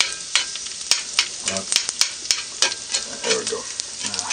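Onions sauté in a pan for a cheese and veggie omelette, a close steady sizzle broken by scraping stirs, with a brief spoken remark over it.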